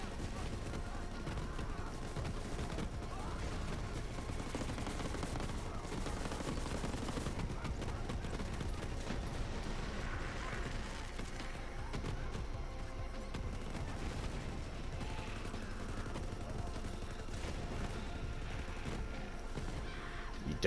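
Rapid automatic gunfire from a shooter game played as Moze in Borderlands, with fire-element weapon damage, dense bursts of shots running nearly continuously with busy effects layered underneath.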